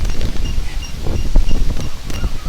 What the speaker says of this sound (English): It's windy, y'all.